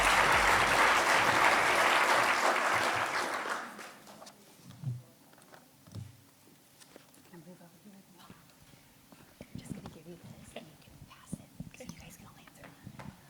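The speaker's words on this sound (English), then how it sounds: "How about another round of applause for our 4 finalists?" An audience applauds award finalists at a ceremony, loud full clapping that fades out after a few seconds, followed by quiet murmuring and scattered small sounds.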